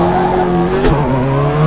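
A Subaru Impreza WRC 07 in WRC 3 on the Great Orme stage of Wales Rally GB yanks into a handbrake turn, loud engine drone with a sharp skid burst midway, the motor pulling on steadily after.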